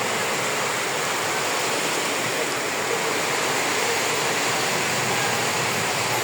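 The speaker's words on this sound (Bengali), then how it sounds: "বৃষ্টিটা অনেক বেগে ভালোই বৃষ্টি হচ্ছে" Heavy rain pours down steadily and loudly outdoors, a dense, constant hiss with no let-up and no voices.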